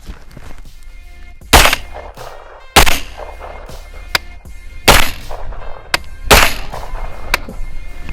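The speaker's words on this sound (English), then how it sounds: "So let's go ahead and shoot a couple more." An AR-9 carbine fires shots one at a time, about five sharp, loud cracks spaced a second or so apart, with quieter handling clicks and knocks between them.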